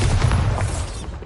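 Bombarda explosion spell in the video game Hogwarts Legacy, a loud, dense booming blast with crackling debris that holds steady for about a second before tapering off.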